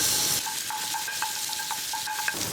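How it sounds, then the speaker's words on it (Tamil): Ginger garlic paste fries in hot oil in a kadai, a constant sizzling hiss with light metallic taps and stirring clinks, close and steady throughout, without speech. "எண்ணெய் நல்லா சூடு ஏறினதும் இஞ்சி பூண்டு பேஸ்ட் வந்து கொஞ்சமாக சேர்த்துடுறேன்"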